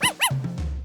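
A puppy gives two quick, high, close yips, followed by a short low tonal sound.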